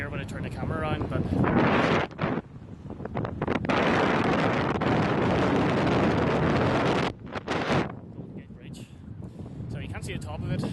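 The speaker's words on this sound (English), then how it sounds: "It's quite windy." Strong gusts buffet the microphone on the Golden Gate Bridge under low clouds, a loud roaring rumble with brief lulls around two and seven seconds; a voice speaks briefly amid the wind.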